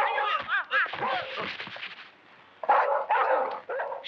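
A dog barks and yips while chasing someone in a Tamil film scene, sharp barks tangled with shouting and frantic voices, loud and close, with a brief lull midway.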